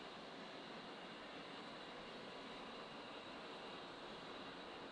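A-10C jet engine spooling up in a flight simulator, a steady broadband whine and rush holding at even loudness throughout, with no talking over it.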